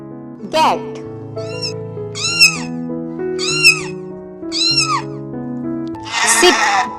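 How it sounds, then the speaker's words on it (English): A cat meows several times in short, distinct calls, rising and falling in pitch, with a harsher, noisier cry at the end, heard close up over soft background music. "cat"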